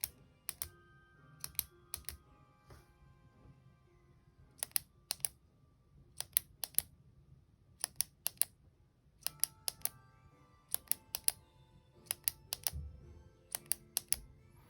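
Zebra Sarasa retractable gel pen clicked over and over in quick pairs and clusters, sharp close plastic snaps separated by brief pauses against a quiet room.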